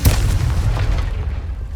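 A Confringo fire spell explodes in a Hogwarts Legacy-style game, opening with a sharp hit and then a dense, rumbling boom that rolls on and slowly fades over the following seconds.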